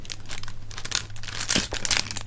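Sheet of paper being crinkled and crumpled up close in an ASMR session, a continuous crackly rustle with sharper bursts of scrunching, no voice.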